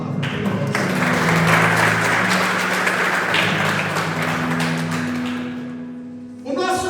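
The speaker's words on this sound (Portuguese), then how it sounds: "Agora aplauda essa palavra" A church congregation claps together during a sermon, a loud broad wash of applause with a steady sustained tone and some taps underneath, fading toward the end before a brief new sound starts.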